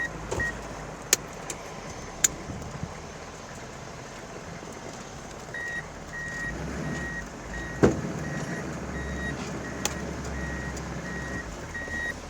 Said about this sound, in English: we're gonna test out the 4-wheel drive here. So what we're gonna do is put it into 4 low